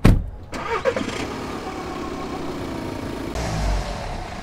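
His mom's car starts with a sharp crank and catch, then settles into a steady low idle and rumbles off, close and fairly loud, with a brief swell near the end.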